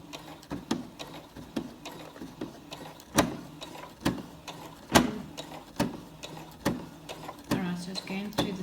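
A sewing machine punches slowly through a thick stack of sixteen fabric layers, each stitch landing as a distinct heavy clunk at an uneven, deliberate pace.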